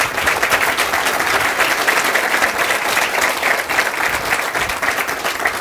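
Sustained audience applause at a groundbreaking ceremony for Hwashin in Georgia, a loud, dense wash of steady clapping from a large crowd filling the whole stretch without a break.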